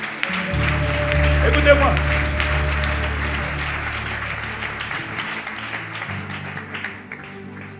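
A church congregation at a special worship service breaks into sustained applause, with a loud low hum running beneath and a voice speaking over the clapping.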